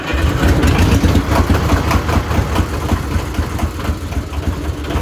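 A 20 kVA emergency generator with a four-cylinder GT124 engine runs loud and close after a cold start, with a dense, rough, steady rumble throughout.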